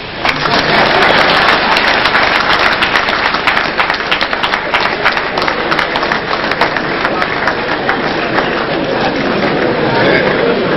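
Loud, dense applause fills a press briefing hall, steady crowd clapping from start to finish with a sharp burst at the outset and no break.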